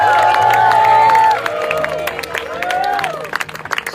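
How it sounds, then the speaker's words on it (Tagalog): Wedding guests clap and cheer for a newly married couple at a ceremony, a crowd of applause with whoops and a sustained tone early on, loud and continuous throughout. "Let's give them a round of applause."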